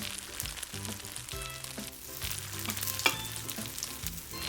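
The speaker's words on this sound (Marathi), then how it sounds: "झाकण न ठेवतासुद्धा हे छान गोल्डन कलरवरती खरपूस असे भाजून निघतात" Sweet potato kachori patties roasting uncovered in ghee, a soft continuous sizzle and crackle of frying close by, fairly quiet, with no voices.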